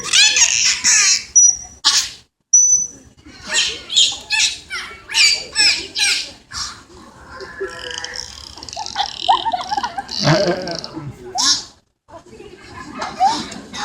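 A dolphin at the Vancouver Aquarium show blows a series of loud, sputtering raspberry squawks in short bursts over about fourteen seconds, with brief pauses and some voices and crowd noise between them.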